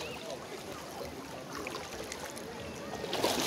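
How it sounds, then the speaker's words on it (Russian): A small sea wave washes in at a shallow sandy beach at Dzhubga, steady broadband water rush throughout that swells slightly louder at the end, close by with no voices over it. "Сейчас будет волна, я сниму."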